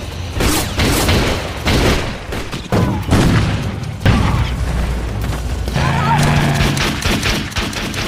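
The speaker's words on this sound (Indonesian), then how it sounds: "Di sini mulailah terjadi tembak-tembakan lagi yang cukup sengit." Intense film shootout from Drive Angry: dense, overlapping bursts of gunfire and booming impacts fill the scene continuously, loud and close, with no pauses.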